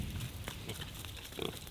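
An Iberian pig grunts softly in a farm enclosure. The short, low snorts are faint and sit in steady background noise.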